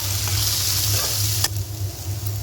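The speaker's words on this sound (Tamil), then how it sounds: "இப்போ இது கூட வந்து இந்த வெங்காயம் வந்து சீக்கிரமாக வதங்கிறதுக்கு ஒரு பிஞ்சு உப்பு சேர்த்துக்கலாம்" Onions with a pinch of salt sauté in a hot pan, making a steady, close frying hiss with a light clatter of stirring and one sharp knock midway; no one speaks.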